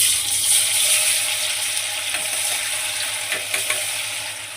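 Steady, loud sizzling of paneer frying in hot oil in a wok, with a bright crackling hiss throughout and occasional small pops.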